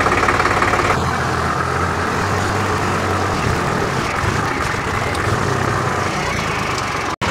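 An old Güldner G30S tractor engine chugs steadily at idle, a loud, low, continuous rumble that runs without pause, cut off abruptly near the end.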